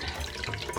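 Liquid is squeezed by hand from grated cassava dough, a brief close trickle and splatter of watery juice draining out, quiet and uneven, with no voices.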